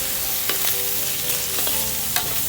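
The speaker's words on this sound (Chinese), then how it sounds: "稍微翻炒一下。" Food stir-fried in a pan with fish sauce and a little sugar gives a continuous loud sizzle, with a few sharp utensil scrapes and clicks as it is tossed.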